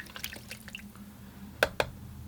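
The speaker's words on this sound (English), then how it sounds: "Splash some water on there maybe." Water being splashed from a brush onto a watercolor painting of sand dunes, heard as two quick close wet taps after a stretch of soft dabbing, no talking.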